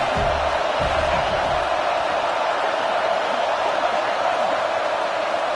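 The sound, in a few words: football stadium crowd cheering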